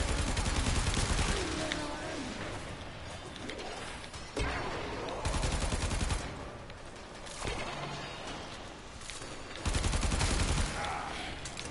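Bombard enemy in the Warframe video game firing at the player, dense loud blasts and crashing impacts in repeated bursts of a few seconds each, close and chaotic with no let-up.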